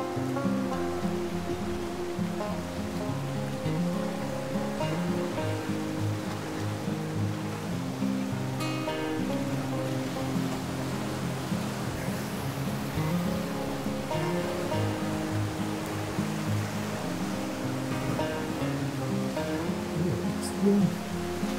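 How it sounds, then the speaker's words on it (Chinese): Steady rain falls outdoors at a peregrine falcon nesting site, making an even, continuous hiss with no breaks. "下雨了哈"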